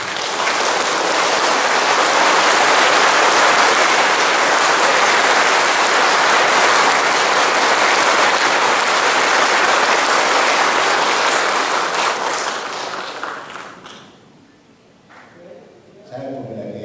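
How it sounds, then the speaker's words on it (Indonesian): Loud, sustained applause from a large audience in a hall at the opening ceremony of basic CPNS training, a dense roar of clapping for about thirteen seconds that fades out near the end. "dengan ditandai tepuk tangan yang meriah"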